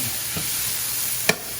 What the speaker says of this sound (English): give it a little bit of a stir so you can caramelize a little bit